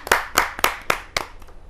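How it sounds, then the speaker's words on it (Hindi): Clapping at a Hindi kavi sammelan poetry gathering as a poet is welcomed: about six distinct, fairly loud claps in a slow, regular rhythm, slightly reverberant, with no talk. "जहाँ जोरदार तालियों के साथ उमंग सरीन जी का हम स्वागत करते"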